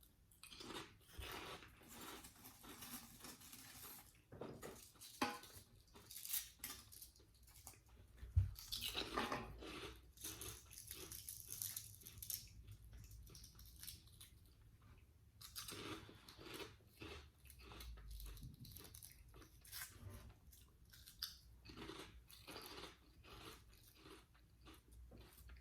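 Crunchy Thai crab-flavored chips being bitten and chewed up close, a long run of crisp, irregular crunches and chewing sounds repeating for about twenty-five seconds with no talking.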